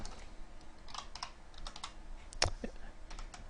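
Typing code on a computer keyboard, a quick irregular patter of close key clicks with one louder sharp keystroke near the end, no talk.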